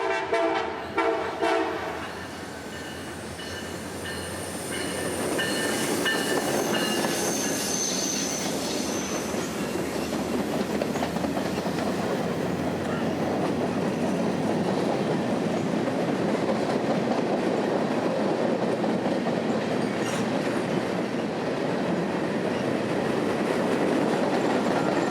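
Freight trains of CSX and Norfolk Southern roll past at a rail junction, with a sustained rumble of wheels, squealing flanges, a horn blast early on and steady clatter that grows louder and stays close for the whole stretch.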